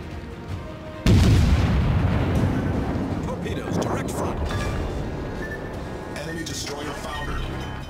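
Cruiser gunfire and a heavy explosion in the naval combat game World of Warships, with the French cruiser Émile Bertin: a loud boom bursts in after a quieter start and rolls on into sustained rumbling battle noise with scattered crackles.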